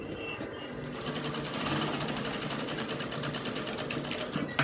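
A sewing machine stitches a shirt cuff with a fast, steady mechanical whirr and rattle that runs nearly unbroken from start to finish, close by and moderately loud.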